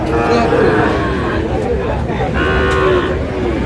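Sahiwal breed bull calves and other cattle at a Dinajpur livestock market, several moos rising over a busy background of crowd chatter and voices talking close by.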